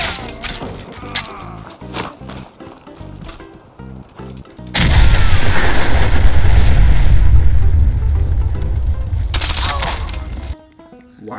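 A shootout in Fallout 4, with scattered sharp shots and impacts at first, then a long dense roar of sustained fire and blasts that swells loudly before cutting off abruptly.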